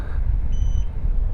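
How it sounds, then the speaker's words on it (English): A short electronic beep from a NIU KQi2 Pro electric scooter rings out clearly over a steady low rumble of road and wind noise while riding. "maybe that beep was the cruise control"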